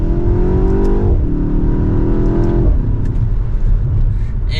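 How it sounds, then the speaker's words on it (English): A 2024 BMW X1 M35i with its four-cylinder engine revs hard through the gears, rising pitch dropping at each shift, loud and close from the cabin, with faint crackles at the end. "There's even some pops in that exhaust as well, which is always nice to hear."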